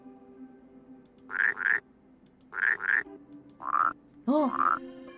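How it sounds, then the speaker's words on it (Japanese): A frog whistle in a video game croaks in repeated paired calls, spaced out over a few seconds, fairly loud and clear against a faint background hum, with no talking over it. "とりあえずじゃあカエル笛を"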